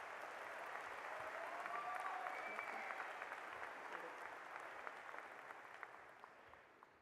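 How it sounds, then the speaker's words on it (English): Graduation crowd applause at Midland Valley High School's 2025 ceremony, sustained dense clapping from a large audience in a hall, steady then slowly tapering off, with faint voices and whistles. "could we give a round of applause to not just these people, but to everyone who has been a big part in our success"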